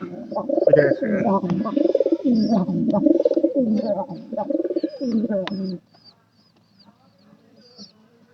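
Pigeons indoors, near a nest with freshly hatched chicks, coo loudly and close in rolling, throaty bursts for about six seconds, then fall nearly silent apart from faint chirps.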